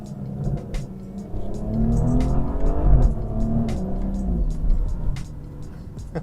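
A BMW M240i with a B58 engine and XHP Stage 3 tune in Sport Plus fires sharp throttle blips on quick downshifts, several rising and falling engine revs heard from inside the car.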